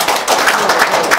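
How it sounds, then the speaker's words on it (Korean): Audience applause at a lecture: a dense, steady burst of many hands clapping together, loud and close, lasting just over a second. "특별히 박수 한번 해주세요."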